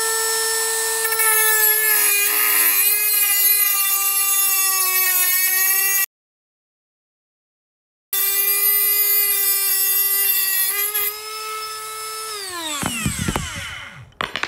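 A Milwaukee cordless rotary tool whines at a steady high pitch while trimming a part, cuts out for about two seconds, starts again, then spins down with a falling pitch near the end, with no voices.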